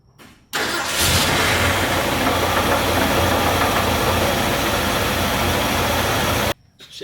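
A 1974 Ford F100 engine cranks and catches, then runs loud and steady close by for about six seconds with a rough idle before cutting off.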